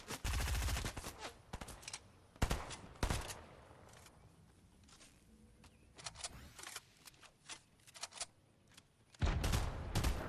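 Gunfire in a Fortnite match: loud sharp bursts of rapid shots open the scene, single cracks follow a moment later, scattered quieter shots fill the middle, and a heavy volley closes it.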